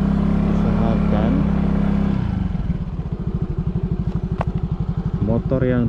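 A motorcycle engine runs steadily and loud, then settles into a pulsing, throbbing rhythm as it labors along, with faint voices in the background.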